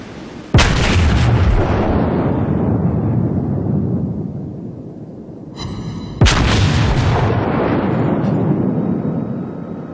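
Two heavy naval gun salvos boom in World of Warships, each a sharp loud blast followed by a long rolling decay, spaced about six seconds apart with nothing else heard.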